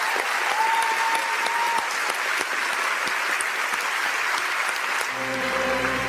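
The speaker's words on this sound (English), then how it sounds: "Look at what a nervous applause that is." Nervous, scattered applause from a room full of artists, steady clapping filling the space throughout with a faint tone near the start, no speech over it.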